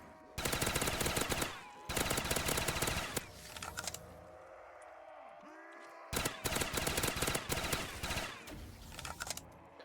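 Bursts of FAL rifle fire in a zombie-style video game rattle out rapidly in long loud volleys, separated by a brief pause with quieter game sounds before the shooting resumes.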